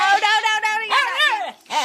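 A small dog giving a run of close, loud, strained yelping barks that break into whiny, whimpering tones, with a short gap near the end.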